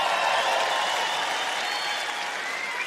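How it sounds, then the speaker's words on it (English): Steady applause from a stand-up comedy audience fills the room, dense and even throughout, with no voice over it. "Thank you for those of you applauding that."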